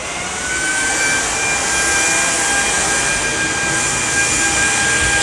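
Samsung Jet cordless vacuum cleaner running on carpet, a steady loud whining roar with a high tonal hum, rising slightly at the start and then holding close and constant.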